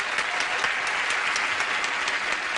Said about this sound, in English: what do you say we all give a brisk round of applause to our new player